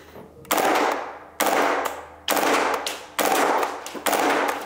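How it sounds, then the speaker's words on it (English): A Krytac Vector gas blowback airsoft gun fires five sharp two-round bursts at a steady pace, each a loud, snappy double crack with a brief decaying tail, close up and without talk. "What this does have compared to some gas blowback weapons is a 2-round burst function."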